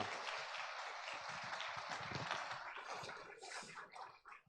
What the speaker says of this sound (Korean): 환영의 박수 한번 쳐볼까요?